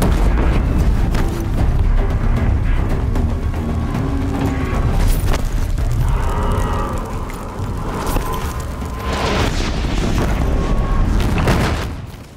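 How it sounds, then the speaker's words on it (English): Booming missile explosions from a machine enemy in Horizon Zero Dawn, a continuous rumbling barrage of blasts and debris with several sharper impacts, loud and close throughout. "we will just have to keep dodging his missiles and all"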